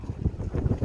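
A strong north wind in a storm gusts above 80 km/h, booming and buffeting against the microphone in a low, rumbling rush.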